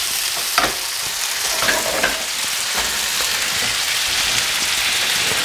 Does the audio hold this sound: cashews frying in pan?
yes